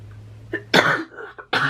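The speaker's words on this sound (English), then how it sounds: "I don't know when this cough is going to go away for good." A person coughs a few times in short, close bursts, with a faint low hum in the background.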